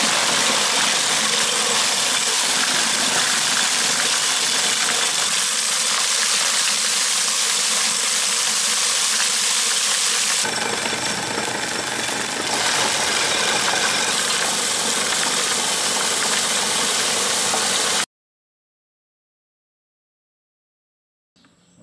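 A homemade shredding machine built around a washing machine motor runs steadily and loudly for about eighteen seconds, with a continuous whirring, rattling drone that shifts slightly partway through, then cuts off abruptly into silence.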